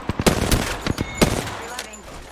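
Gunfire in the video game Apex Legends, a rapid burst of loud sharp shots followed by a few more spaced cracks, close and punchy.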